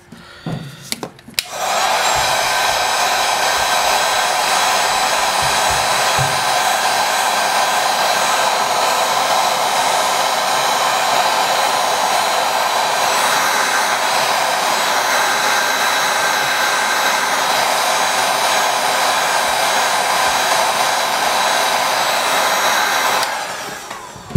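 Heat gun blowing hot air onto the back glass of a Motorola One phone to loosen it: a loud, steady whooshing roar after a brief clatter at the start, holding unbroken for over twenty seconds before cutting off.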